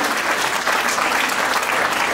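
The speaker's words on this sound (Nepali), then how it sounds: "ईश्वरलाई बिन्तीको धन्यवाद र म्यामको लागि सम्मानले ताली जोरदार ताली गर्नुहोला" Loud, continuous applause from an audience at a satsang bhajan gathering, many hands clapping in a dense, steady roar that fills the whole stretch without letup.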